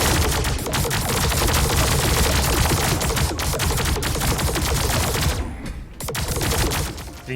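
Spaceship weapons fire in the space strategy game Star Drive 2, dense rapid bursts of loud gunfire-like shots almost continuous, with a brief lull near the end before firing resumes.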